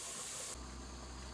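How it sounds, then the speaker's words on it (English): Steady steam hiss from a pressure canner venting while potatoes are canned, a bright broadband rush that shifts to a lower, rumbling tone partway through, continuous and close with no voices. "Now we'll let that steam go for about 10 minutes before we put the pressure gauge on."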